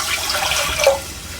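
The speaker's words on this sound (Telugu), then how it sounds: "ఇదే గిన్నెతోని మనము నీళ్ళు వేసుకుందాం" Water is poured from a bowl into flour while making ribbon vadiyalu, a soft steady splashing pour that swells briefly near the end, close by and without voices.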